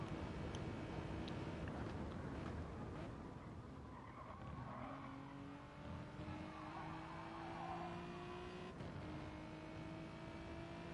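Engines drone and tires squeal in long sliding streaks, with several cars revving and skidding in a racing video game at Bathurst, all sounding synthetic and slightly distant.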